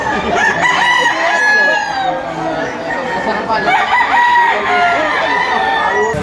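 Several three-year-old roosters crow in overlapping calls close by at a poultry market in Lipa, Batangas, with clucking between them and a faint voice in the background.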